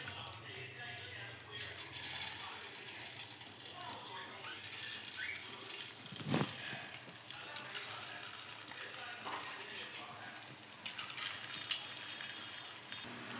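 Homemade kurkure fries in hot oil with a faint, soft sizzle and occasional stirring scrapes. A quiet background voice drifts underneath.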